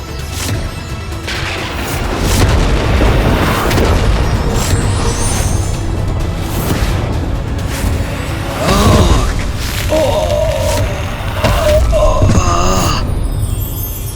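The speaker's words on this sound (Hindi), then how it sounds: "ये कैसा विस्फोट था?" A loud, rumbling explosion in a Hindu mythological TV drama set on Kailash, with heavy booming that sustains for many seconds and then gives way to ringing tonal sounds near the end.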